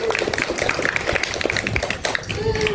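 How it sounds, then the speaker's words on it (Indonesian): Scattered clapping from an audience at a youth panel discussion, a loose patter of claps with some chatter and a voice mixed in over steady room noise. "Kasih tepuk tangan dulu dong"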